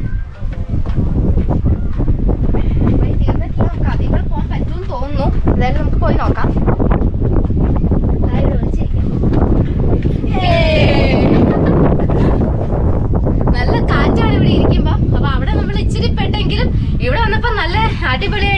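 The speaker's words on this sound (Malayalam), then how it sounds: "നല്ല കാറ്റുണ്ട്" Strong wind at the Aamappara viewpoint blasts and rumbles across the microphone without pause, loud and close, while people talk through the gusts.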